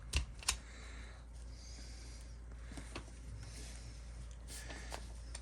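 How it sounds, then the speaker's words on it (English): A small cutter snips through a piece of wire with a couple of sharp, close clicks near the start. Faint handling noises follow over a quiet low hum, with no speech. "Here's a piece of wire. So let's cut a little piece off."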